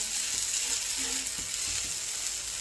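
A jowar flour dhirde, a savoury pancake, roasts in oil on a hot pan with a steady, bright sizzling hiss close by and a few faint soft knocks underneath.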